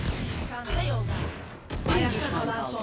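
Sheriff pistol shots ring out in the video game Valorant during a tournament match. Sharp gunfire bursts sound about twice over a Turkish commentator's continuous talk.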